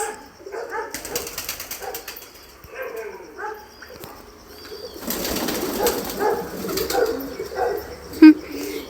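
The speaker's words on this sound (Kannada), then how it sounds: "ಇದರಲ್ಲಿ ಹಸು ಮತ್ತು ಪಾರಿವಾಳ ನೋಡಿ, ಪಾರಿವಾಳ ಲವರ್ಸ್." Soft cooing from pigeons comes and goes in a quiet setting, with a few faint rustles and a brief louder sound near the end.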